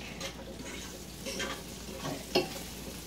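Garlic cloves fry in a pan, a soft, steady sizzle with a few faint pops and one sharper crackle near the end, close and quiet, no one speaking.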